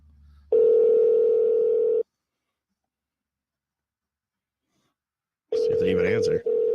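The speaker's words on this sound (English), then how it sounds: "the phone's ringing" A phone call to a Waffle House restaurant rings through an earpiece. A loud steady electronic ring tone sounds twice, with a long silent gap between the rings.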